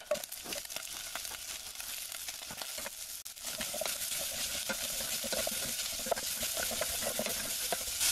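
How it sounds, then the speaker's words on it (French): Onions and garlic sautéing in a saucepan, a close, dense sizzle with stirring scrapes and crackles that quiets briefly near the middle, then returns steady and bright to the end. "dans la même casserole, je vais faire revenir les oignons et l'ail"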